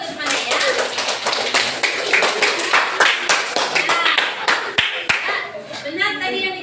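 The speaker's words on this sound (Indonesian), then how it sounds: "Tepuk tangan dulu untuk semuanya ya." A classroom of students claps in a steady, fast patter of many hands, close and loud, with a teacher's voice heard over the applause.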